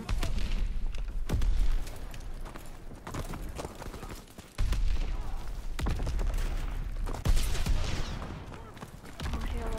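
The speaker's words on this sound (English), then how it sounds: "I hear a lot of gunshots." Bursts of gunfire in the video game Call of Duty: WWII crack and boom in rapid volleys, some sharp and loud, others more distant, with brief lulls between the clusters of shots.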